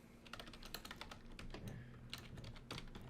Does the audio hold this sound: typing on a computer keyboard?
yes